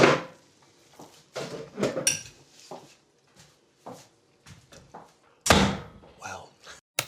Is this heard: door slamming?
yes